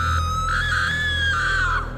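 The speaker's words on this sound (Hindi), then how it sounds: "कोई औरत मेरे कान के एकदम नज़दीक जोर से चिल्लाई" A woman lets out a loud, sustained scream right up close, a single long wavering shriek lasting about two seconds as a horror sound effect, with no talk over it.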